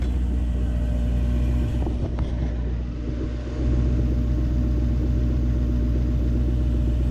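A car engine runs steadily during a cooling system test, still warming up after about 22 minutes of running. It gives a constant, close, low rumbling idle with no one speaking.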